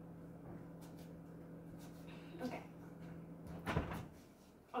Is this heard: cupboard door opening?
yes